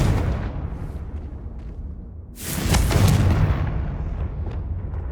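Confringo fire spell in Hogwarts Legacy, a loud booming blast that swells midway and rolls on as a dense, rumbling roar, with a rushing whoosh before it.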